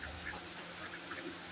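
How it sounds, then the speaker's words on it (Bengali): Ducks on a road, pecking at food on their way home, give a few faint, scattered quacks over a soft, steady background hum. "এই যে হাঁসগুলো রাস্তার থেকে খাবার খাচ্ছে,"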